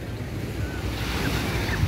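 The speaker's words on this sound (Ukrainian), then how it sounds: "І трохи звуків води для вас." Sea waves wash steadily against the shore at Saranda, Albania, a continuous rushing surf mixed with gusty wind noise across the microphone and no voices.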